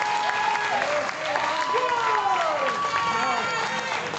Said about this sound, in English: This crowd showing their appreciation for these two warriors.